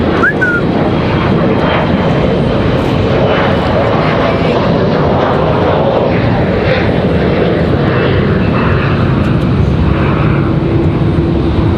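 A Boeing Dreamliner airliner at Raleigh-Durham airport produces a loud, continuous engine roar that holds steady for the whole stretch, with faint background noise underneath.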